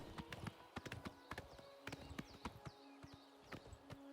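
Horse hooves clip-clopping in the video game The Elder Scrolls IV: Oblivion Remastered, a quick irregular run of hard hoof strikes with some tonal game sounds layered underneath.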